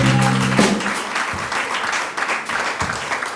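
Church congregation applauding at a thanksgiving service in a temple in Calavi, steady loud clapping throughout, with a brief tone at the start.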